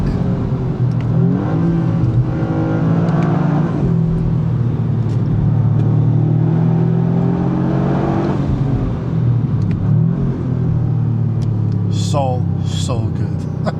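A 2025 Toyota GR Yaris with a three-cylinder turbocharged engine pulls hard through the revs, a steady loud drone rising and falling for the whole stretch, with someone speaking over it.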